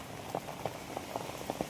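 Rain falls outdoors during the rainy season, a faint steady patter with scattered soft drops tapping on a surface, and no voices.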